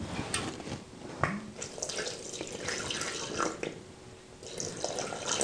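Tap water runs and splashes into a pot in a kitchen while a meal is prepared, the flow fairly close and uneven, with small clinks over a steady stream.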